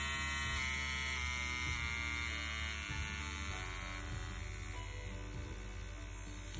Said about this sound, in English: It's a really, really nice and powerful tattoo machine.